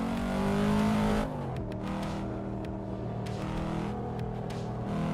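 A car engine in a racing video game revs high near the redline, then drops with a gear change and keeps a steady, strained drone, with brief clicks over the sound.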